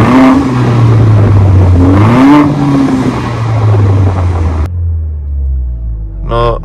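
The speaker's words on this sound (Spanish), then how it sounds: "ahora vamos a ver cómo se escuchan los diferentes modos de manejo en el escape" A 2018 Mercedes-AMG GLA 45 SUV with its exhaust in Comfort mode revs loudly, the engine climbing and falling in a couple of swells before settling to a steady deep idle rumble, with a brief rise again at the end.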